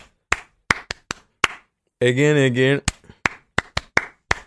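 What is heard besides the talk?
people clapping for themselves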